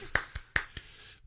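One person claps their hands in a quick demonstration, four sharp close claps in two pairs, then silence.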